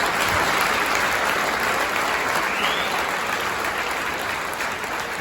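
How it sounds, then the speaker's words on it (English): A crowd at a fan event for Newcastle United supporters gives a sustained, loud round of applause, dense clapping that carries evenly throughout and eases slightly toward the end. "Give those a round of applause individually."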